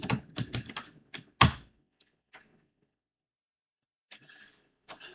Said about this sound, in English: I'm typing the same thing.